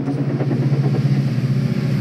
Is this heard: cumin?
no